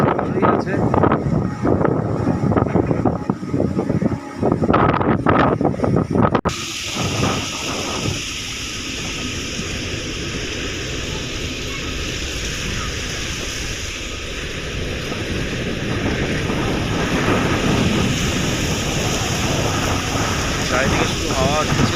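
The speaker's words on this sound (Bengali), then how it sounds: "চারিদিকে শুধু হাওয়া দিচ্ছে।" Strong, gusty wind during Cyclone Mocha, with light rain: a loud, continuous roar and buffeting against the microphone that runs throughout. A person's voice is heard now and then.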